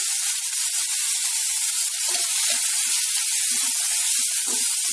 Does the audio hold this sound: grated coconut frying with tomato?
yes